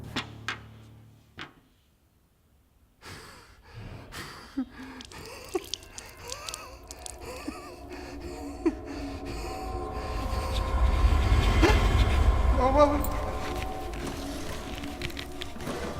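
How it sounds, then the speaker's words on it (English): A reversed impact swells from near silence into a slow, rumbling crescendo, building to a loud peak before a punchy, lingering tail. "it transforms from an impact into a slow rising crescendo with a strong punchy tail"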